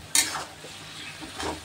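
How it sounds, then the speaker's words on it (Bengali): A paste of mustard, poppy seed and melon seeds is stirred in a pan: a sharp utensil scrape at the start, then soft sizzling and another scraping stroke near the end. "এর মধ্যে এবার আমি পোস্ত, মগজদানা আর সর্ষে বাটা, 2 রকম সর্ষে বাটা দিলাম, দিয়ে বেশ করে নাড়াচাড়া করে"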